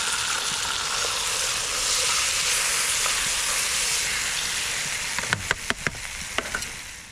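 Steak sizzling in a pan on a Trangia stove, a steady hiss throughout that ends in a run of sharp spatula clacks and pops as the meat is turned, close by.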